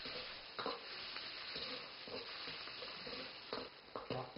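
Shrimp heads frying in reddening oil in a pan, a steady close sizzle broken by a few stirring scrapes and bursts, with no talking.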